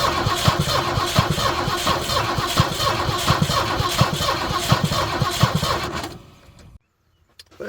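A 1971 Ford Ranchero with a 351 Cleveland V8 cranking without catching, a loud rhythmic starter churn pulsing for about six seconds before cutting off into near silence.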